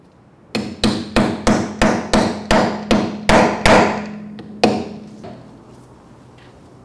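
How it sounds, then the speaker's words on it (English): A hammer drives 5-gram wheel balancing weights onto a tire rim on a CB 910GB wheel balancer: about ten quick, sharp, evenly spaced blows, then a pause and one final strike, close and loud. "Now, hammer in the two 5-gram weights in the 12 o'clock position."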